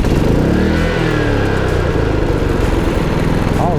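A Dometic Penguin 13,000 rooftop air conditioner with a Micro Air Easy Start Model 364 soft starter on a trailer starts up with a loud, steady mechanical drone and hum right up close, no talking.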